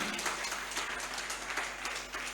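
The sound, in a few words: congregation applauding in church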